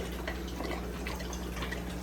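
Aquarium water trickling and splashing steadily back into a planted nitrate-filtering fish tank, a close, continuous liquid flow with faint drips and no voices.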